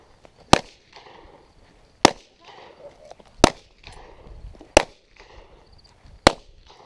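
Five sharp pistol and revolver shots, from an old-school revolver and a Ruger at a basic pistol shooting class, crack out at roughly one-second-plus intervals, each a loud isolated report over quiet background movement.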